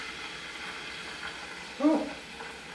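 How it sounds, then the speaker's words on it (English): Steady sizzle of chicken frying in a pan hisses throughout, with a brief exclaimed voice briefly rising over it. "Now this should be a little bit of a sizzle if I did it right."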